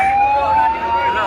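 An ambulance siren near a road accident at a bridge in Karimganj, Assam, wails as a steady, prominent tone with a slight rise, with faint voices and traffic murmur beneath it.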